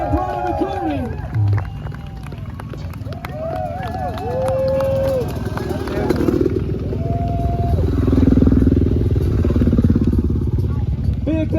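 Motocross motorcycles revving during a freestyle backflip show at a NASCAR event in Chicago, engines rising and falling at a distance under a loud arena announcer and a cheering crowd.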